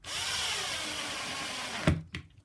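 A power drill whines steadily for about two seconds driving a stainless steel 6 by 3/4 inch screw into a wood pilot hole on an epoxy mold, then stops with a couple of knocks.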